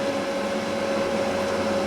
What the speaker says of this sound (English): The fan is making quite a lot of noise.